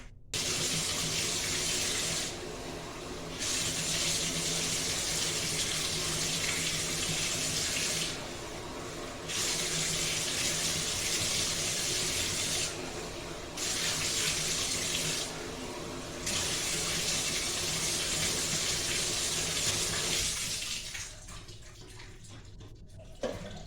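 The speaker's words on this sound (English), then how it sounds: "I'm going to take my cup and you're going to see me try to get all the suds off." Water pours steadily from a cup over a sudsy bathtub to rinse it, a continuous close splashing with a few brief breaks between pours and no talking.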